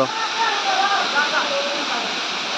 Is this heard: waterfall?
yes